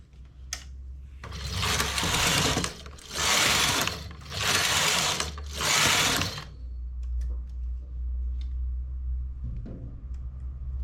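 Knitting machine carriage drawn across yarns of differing thickness, four loud rasping passes in steady rhythm, each about a second long, followed by quieter mechanical clicks and a low hum, with no talk.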